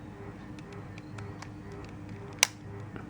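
Faint small plastic clicks from turning the screwdriver tension adjustment on a GAN XS speed cube, several soft ticks spaced out over a low room hum, with one sharper click near the end.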